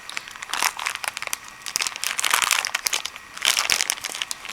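A sticker being peeled from the bottom of a container, heard close up as continuous crinkly crackling and tearing with brief sharp bursts.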